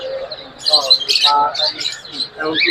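Lovebirds at a busy bird market give sharp, repeated squawks and chirps close by, with voices talking among them.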